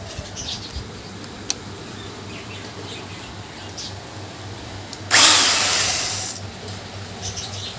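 A power drill drives screws into the frame of a homemade budgie cage, sounding as one loud, steady whir of just over a second against a quiet background.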